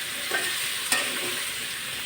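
Koi fish masala sizzling in hot oil as it is stirred, a loud continuous close-up fry hiss with a couple of brief clinks or scrapes from the spoon, no voices.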